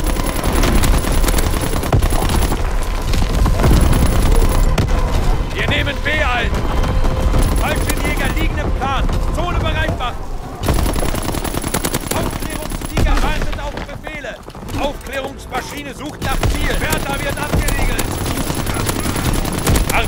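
Artillery fire in a war video game: loud, continuous bursts of gunfire and booms overlap throughout, with a voice speaking in short stretches over the din.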